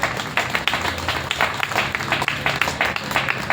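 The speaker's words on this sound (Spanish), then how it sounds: "Denle un aplauso, por favor." A church congregation applauds together, a steady wash of many hands clapping that stays close and fairly loud throughout.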